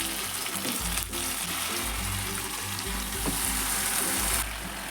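Mutton for Kashmiri restaurant-style mutton kanti fries in a hot pan with a loud, continuous sizzle and occasional stirring scrapes, with no voices.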